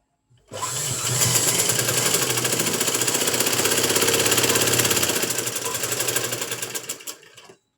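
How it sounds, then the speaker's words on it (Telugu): A sewing machine stitching along a folded fabric edge, one continuous, loud, evenly rhythmic mechanical whir lasting about seven seconds, close and with no talk. "ఎడ్జ్లో ఒక కుట్టు అనేది వేసేసుకోవాలి"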